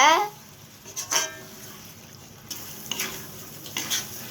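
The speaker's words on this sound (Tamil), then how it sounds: "தேங்காய் பால் இப்போ நம்ம ஊற்றியாச்சு. எறாவோட நல்லா கலந்துக்கோங்க." Prawns in coconut milk are stirred in a pan, with intermittent spoon scrapes and clinks over a soft simmering sizzle and a little background noise.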